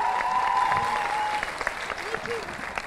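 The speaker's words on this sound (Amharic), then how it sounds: "በድጋሚ ቆማችሁ አጨብጭቡላቸው ባካችሁ።" Audience members at a students' quiz competition give a standing ovation, with dense, continuous clapping alongside a sustained tone and faint voices underneath.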